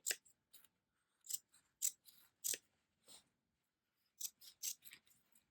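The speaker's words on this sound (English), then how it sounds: "we just need to cut enough to expose the other row of double-sided tape" Scissors snipping through fabric and double-sided tape while making a sewing-tutorial shoulder bag, quiet close crisp cuts in short clusters separated by pauses, with no voices.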